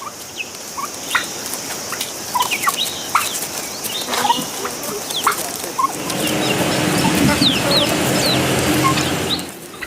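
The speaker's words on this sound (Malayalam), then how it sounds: "കോഴികൾ കുറേ ഉണ്ട്, ടർക്കി ഉണ്ട്, ഗിനി ഉണ്ട്, എല്ലാ കോഴികളും നമ്മളടുത്തുണ്ട്." Hens clucking alongside turkeys and guinea fowl at a disaster-hit farmyard, scattered calls and gobbles at mid distance over a steady background hiss, growing busier and denser toward the end.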